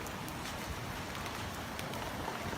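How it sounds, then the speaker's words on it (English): Heavy rain pours down in Beijing as a steady, dense hiss of downpour that stays constant throughout, with no pauses. "好大的雨啊！"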